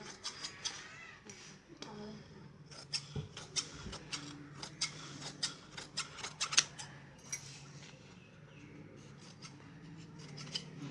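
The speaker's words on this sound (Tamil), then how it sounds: "பட்டி வெட்டியாச்சு, கை வெட்டியாச்சு." Scissors snip through blouse fabric during tailoring, making a series of sharp, close cuts in irregular bursts while a person talks quietly underneath.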